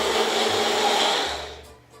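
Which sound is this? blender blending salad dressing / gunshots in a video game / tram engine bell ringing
blender blending salad dressing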